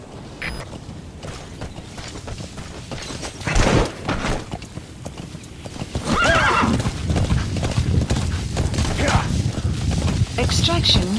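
Horse hooves clip-clop and a horse neighs in the Metal Gear Solid V game, with loud booms and gunfire-like effects mixed in and game dialogue spoken over parts of it.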